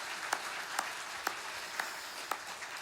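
A church congregation applauds during a Sunday anniversary thanksgiving service, soft distant clapping with a few sharper claps standing out at regular intervals, quiet throughout.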